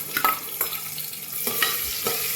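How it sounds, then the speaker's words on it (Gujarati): Chopped onion hits hot oil with cumin seeds, giving a bright steady sizzle with a few stirring clatters and scrapes, close and moderately loud, no voices. "જીરું ઉપર આવી જાય એટલે આપણે એક નાની ડુંગળી કાપેલી છે તે ડુંગળી નાખી દઈશું વઘાર માટે."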